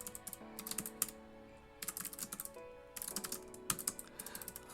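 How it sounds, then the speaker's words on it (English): Rapid typing on a computer keyboard in bursts of close, crisp key clicks with short pauses between runs, no voices. "since I'm typing this in asymptote"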